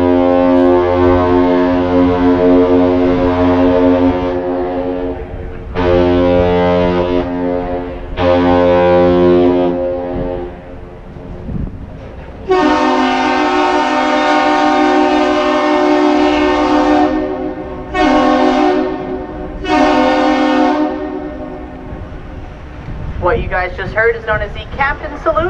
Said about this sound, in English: One long and two short blasts of the horn, initiated by the boat, reciprocated by the bridge.